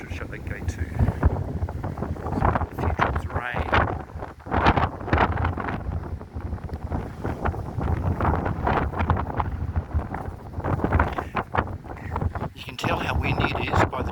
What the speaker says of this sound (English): It's very, very windy, gale force